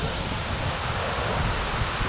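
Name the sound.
waterfall and fast-flowing river in Puy-de-Dôme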